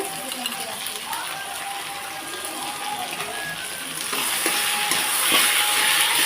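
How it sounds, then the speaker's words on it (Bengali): Spice masala of ginger, garlic, chili, chili powder and cumin powder fries and is stirred in a pan for mutton curry, a steady close sizzle that swells louder partway through, with scraping stirs. "মশলাটাকে ভালোভাবে কষিয়ে নিতে নিতে"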